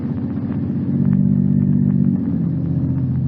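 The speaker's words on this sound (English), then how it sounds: "The unearthly silence is broken only by the purr of a motor car." A low, steady engine hum with a smooth rumbling purr, swelling slightly louder midway before settling back, heard alone without voices.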